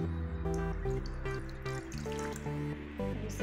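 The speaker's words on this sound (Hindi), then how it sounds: "अब इसमें डालेंगे 2 कप पानी," Water is poured into a pan for momo chutney, a steady trickling and dribbling stream with splashy liquid sounds, close and moderately quiet, alone without talk.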